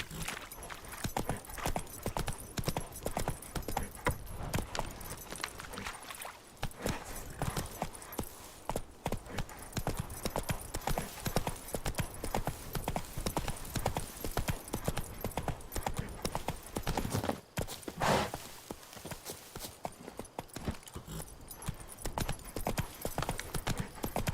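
Roach the horse galloping in The Witcher 3: Wild Hunt, with a fast, loud, unbroken rhythm of hoofbeats close up that briefly dips near the middle before resuming, and a faint whinny now and then.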